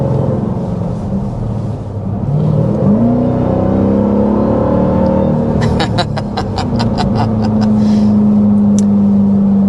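A Dodge Durango Hellcat SUV engine revs up and pulls hard under acceleration, a loud steady roar with rising tone, heard from inside the vehicle, with a rapid ticking burst midway through.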